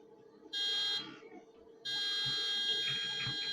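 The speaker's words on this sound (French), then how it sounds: "on dirait les alarmes dans les collèges" An alarm buzzer from the farm game Farming Simulator 17 sounds in two loud, steady electronic blasts, a short one and then a longer one after a brief pause, with quiet background noise between them.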